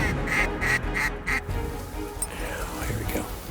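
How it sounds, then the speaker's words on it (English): Ducks and geese call at a waterfowl roost, with loud rhythmic quacking up close at first, then a looser mix of honks and calls from several birds. "You could hear thundering calls of geese and ducks everywhere throughout this roost."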